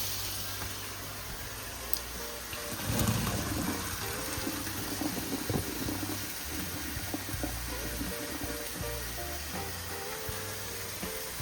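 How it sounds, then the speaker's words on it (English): Cooked pasta water pours out while draining, a continuous splashing gush with a louder surge early on, close by in a home kitchen, with faint background hum and no talking. "my pasta is finished cooking. I'm gonna drain it"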